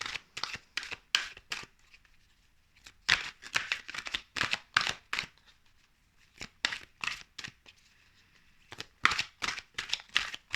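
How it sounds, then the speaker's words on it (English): Tarot advice cards being shuffled and drawn by hand, a steady run of crisp riffling card flicks in quick bursts with short pauses between, close and fairly quiet. "let's pull one of these advice cards"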